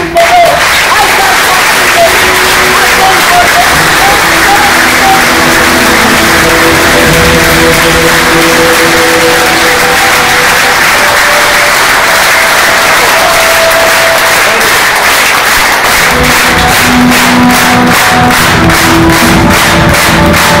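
Sustained audience applause in a theater during a European tour by the Artsakh Theater, a loud, dense wash of clapping with crowd noise and voices mixed in, continuing throughout.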